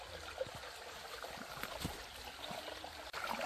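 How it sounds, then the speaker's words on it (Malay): A clear forest stream at the edge of the jungle on a mountain hiking trail flows with a steady, close trickling and babbling wash, continuous throughout with no voices. "Di pintu rimba ini terdapat aliran anak sungai yang jernih airnya."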